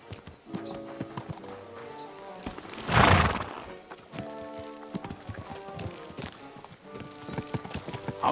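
Horse hooves clip-clop steadily in a video game, a close, rhythmic trot under tonal game music, with a louder noisy burst near the middle.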